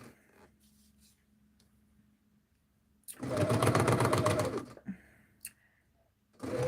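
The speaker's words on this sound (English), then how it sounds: "I thought maybe I'd sew them all together and make little strips out of them" A sewing machine stitching quilt blocks into strips runs in one loud, close burst of about a second and a half, with brief whirs before and after and quiet room tone around it.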